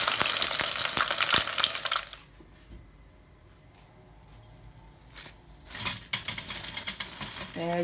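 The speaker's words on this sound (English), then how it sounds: "Sit tight while we fry the rest." Chicken wings fry in hot oil with a loud, dense crackling sizzle that drops away to near quiet, then flares back up with sharp pops and spatters.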